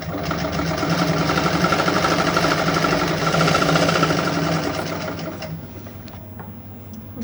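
A sewing machine stitches the collar neck of a kurti, a continuous close rattling hum for about five seconds that slows and fades into quieter handling.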